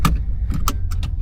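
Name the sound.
car sound, recorded by action camera in car test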